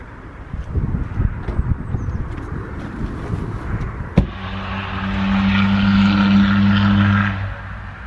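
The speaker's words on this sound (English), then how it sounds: "That was a transit van with an exhaust." Ford Transit van with an aftermarket exhaust passing by outdoors, a loud rumbling drone that rises sharply after a brief knock and holds strong for a few seconds before fading.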